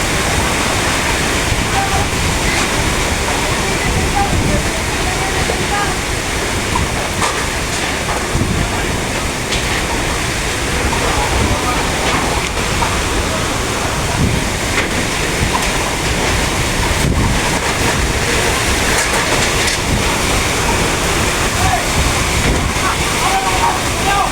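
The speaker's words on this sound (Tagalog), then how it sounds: "Grabe, lakas ng hangin." Strong typhoon wind in Sariaya, Quezon roars continuously and loudly close to the microphone, a dense rushing noise with gusty buffeting that never lets up.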